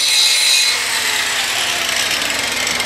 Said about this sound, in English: the red line, I'm going to grind that down, and on this plate I'm going to just barely grind that down